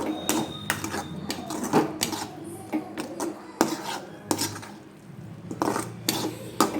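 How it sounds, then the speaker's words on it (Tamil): Mango pachadi being stirred with jaggery in a pot, a spoon scraping and clinking against the metal in an irregular run of close, sharp knocks and scrapes, with no talk. "போட்டு நல்லா சர்க்கரையோடு மிக்ஸ் பண்ணி கிண்டுங்க"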